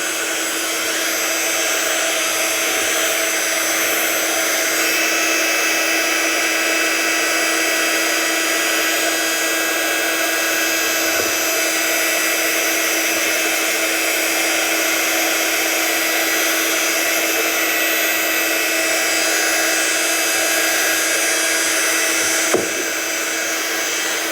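A heat gun blows steadily to dry a stamped paper craft project, a continuous loud whirring airflow running unbroken for the whole stretch with a small click near the end and no talking.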